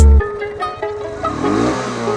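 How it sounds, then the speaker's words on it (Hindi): Motorcycle engine picked up by a mobile motovlogging microphone setup, a loud opening thump then rising and falling revs with a clear harmonic whine, close to the mic. "ये गाड़ी का साउंड सुनाई दिया"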